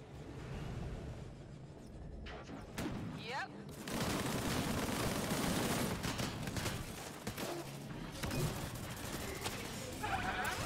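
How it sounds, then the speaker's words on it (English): Dense game combat from the shooter Disintegration, with booming shotgun blasts and other gunfire and explosions packed together across the stretch, loud and continuous, with a voice talking underneath. "that shotgun does not shoot very fast at all"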